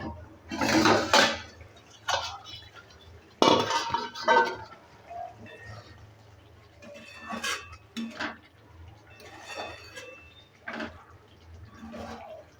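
Lid lifted off a pot of curd soybean curry cooking on a gas stove, with a few loud metallic clanks and scrapes at the start, followed by softer clinks and faint bubbling sounds.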